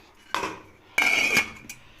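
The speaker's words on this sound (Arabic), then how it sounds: "هبدا بقى اغطي عليها، سيبها تستوي 3/4 سوا" A metal lid goes onto a pot of simmering lamb soup with two sharp clanks, a light one and then a heavier, ringing settle, with a faint clink trailing after.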